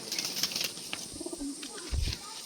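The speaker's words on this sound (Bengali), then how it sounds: "বাড়ির পায়রা এখন সেট পায়রা আছে" Domestic pigeons at a home loft, a mix of fancy breeds, coo low and soft while wings flap in a few brief bursts. Faint chirps sound nearby, with a stronger flutter of wingbeats near the end.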